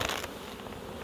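Honeybees swarm around an opened hive outdoors, a dense close buzzing of many wings, loud at first and then holding steady, with no speech.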